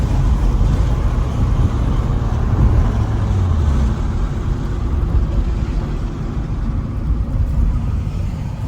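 A loud, steady engine drone from a 1995 Nissan Skyline GT-R R33 V-Spec with heavy road and wind rumble, as if cruising at highway speed with the windows open.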